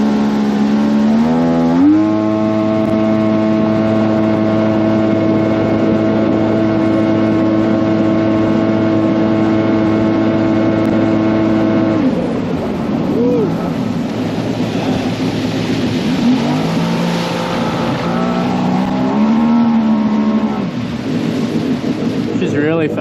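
A repaired jet ski runs fast on choppy water, its engine holding a loud, close, steady drone before the pitch rises and falls as it swerves and bounces over the waves, with wind and spray noise and a voice speaking.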